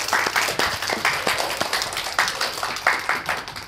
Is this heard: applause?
yes